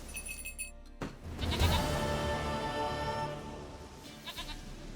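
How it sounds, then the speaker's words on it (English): A goat in The Witcher 3 lets out a long, loud wavering bleat close by, following a short cut-off earlier cry, with quiet ambient sound and no speech. "Goat of mine, dearest, sweetest goat."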